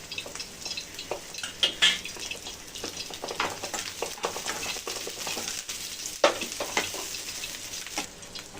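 Garlic and ginger frying in a pan for a cauliflower bhaji give a steady close crackle and sizzle, broken by scraping stirs and a few sharper pops, with no voices.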